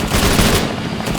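A minigun fires in a modded video game as one loud, dense, continuous burst of rapid gunfire that fills the whole short stretch, with no talking.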